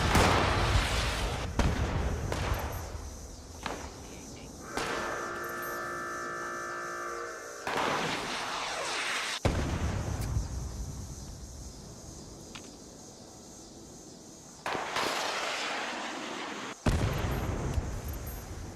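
Repeated missile blasts in Fallout 76 crack out as loud broadband bursts, several sharp detonations spaced a few seconds apart over a low, steady hum.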